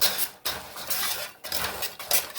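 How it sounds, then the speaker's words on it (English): Sugar-coated nuts rattle and scrape as they're stirred in a pan, a close, gritty swish repeating in roughly one-second sweeps with brief pauses between. "Just keep stirring it here until it gets nice and coated"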